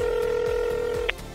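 A telephone rings back on the line as a steady electronic tone that cuts off near the end, with faint hum underneath and no talking.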